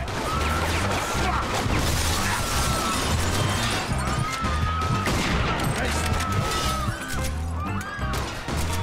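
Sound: gunshots hitting the player in a video game

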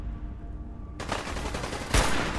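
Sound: gunfire in the video game Fallout 4

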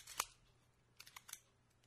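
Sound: Minolta 16 spy camera film advance mechanism being operated

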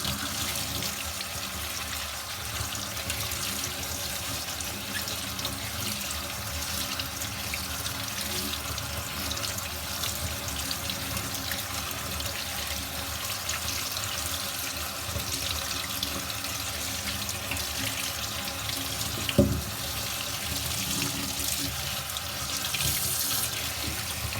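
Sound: tap water running while washing grapes

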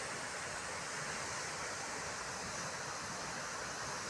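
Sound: Waterfall flowing at Gagadiya Dhara near Khodiyar temple, Gir

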